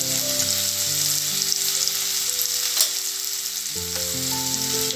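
Onions fry in a pan with asafoetida and cumin, a dense, close sizzle running steadily over a background of tonal music, with one brief knock near the middle.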